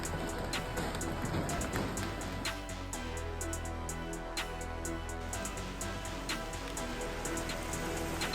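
Steady rain pours down on an outdoor wedding in China, a dense, continuous patter of drops striking surfaces with scattered sharper splats close by, loud and unbroken throughout.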